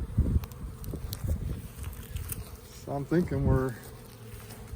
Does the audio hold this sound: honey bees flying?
yes